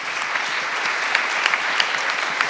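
An audience at a startup pitching event for investors bursts into dense, continuous applause, many hands clapping at once, fairly loud and close with no speech over it.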